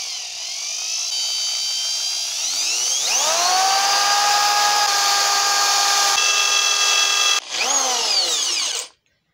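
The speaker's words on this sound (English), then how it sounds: "I did change the drill back to the other side for regular drilling" A power drill spins through a steady, continuous run while building a heavy-duty disposable balloon pole and base, starting slower and then speeding up, with its whine rising in pitch, briefly cutting out, then revving back before stopping.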